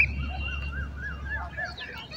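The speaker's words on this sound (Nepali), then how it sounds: "चरा आवाज पनि दामी सुनिन्छ गाँठी।" Birds call in short, warbling phrases on a hilltop in Nepal, repeated one after another at moderate distance over a steady low rumble of wind or ambient noise.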